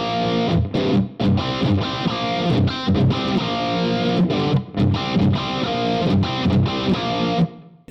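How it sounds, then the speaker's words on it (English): A Donner DLP-124 electric guitar plays through an amp with heavy, thick distortion, loud chugging chords and palm-muted riffs with brief gaps, ending abruptly. "they've given us a lot fatter kind of distortion sound for just a really nice heavy grunt"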